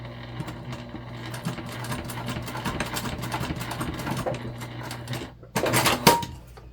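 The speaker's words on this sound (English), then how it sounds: "We are basting around a corner, so it's not the easiest." A sewing machine runs steadily while basting around a corner of a modified Lindsport mini backpack, with a continuous mechanical hum and rapid needle ticking, then a brief louder burst of stitching near the end.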